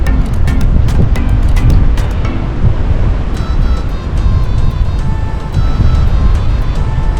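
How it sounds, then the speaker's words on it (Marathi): Waves wash ashore on the Ottawa River at Britannia Beach in a continuous loud surging rush, with heavy wind buffeting the microphone and a few faint clicks early on. "पण लाटा वगैरे लिटरली समुद्रासारख्याच आहेत"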